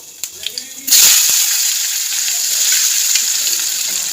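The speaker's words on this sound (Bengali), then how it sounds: "যখন আলুটা হালকা ভাজা হয়ে যাবে তখন আমি পেঁয়াজটা দিয়ে দেবো" Potatoes hit hot oil seasoned with black cumin in the pan where fish was just fried; a sharp burst of sizzling starts just under a second in and settles into a loud, steady crackling hiss.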